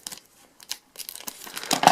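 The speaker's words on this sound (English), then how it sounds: "we're just gonna slice it open, and it's probably gonna glue my scissors together, but that's okay. It's a nice little foil bag" A foil bag is sliced with scissors and crinkled open, giving sharp crackling bursts separated by short pauses that build into denser, louder rustling toward the end, close and alone.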